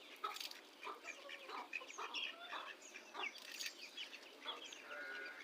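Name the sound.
chickens, ducks and chicks clucking while eating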